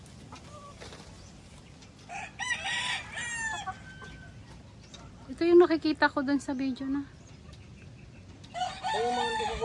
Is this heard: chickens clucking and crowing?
yes